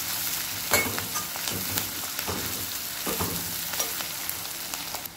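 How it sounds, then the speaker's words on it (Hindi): Onion, tomato and green chili fry in a pan for a bitter gourd dish: a continuous crackling sizzle broken by irregular sharp spatula clinks and scrapes, close and moderately loud, with no voices. "अब इसे हम 2 मिनट के लिए अच्छे से पका लेते हैं, जब तक प्याज अच्छे से भून जाएगी।"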